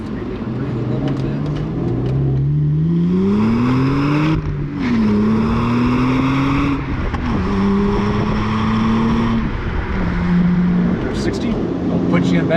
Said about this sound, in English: Let that 3-liter breathe a little bit.